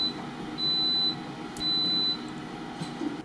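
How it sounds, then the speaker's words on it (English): An Instant Pot Duo Crisp air fryer signals it is done with two sustained electronic beeps, each about half a second long, over a low steady background hum, with a faint click between them. "once it's done, it'll beep and the display will say end."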